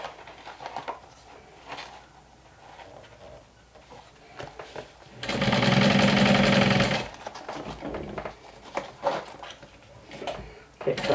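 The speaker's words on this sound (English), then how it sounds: "I'm just stitching the bottom part" Sewing machine stitching the bottom of a pony-themed saddle crossbody bag, running in one loud steady burst of about two seconds, with a person talking quietly and handling fabric before and after.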